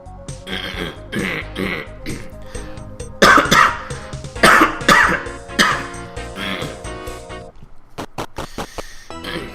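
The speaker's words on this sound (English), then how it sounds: "Seriously, this cough's getting annoying." A run of harsh, repeated coughs close to the mic, several hacking bursts in a row, ending in short scraping sounds.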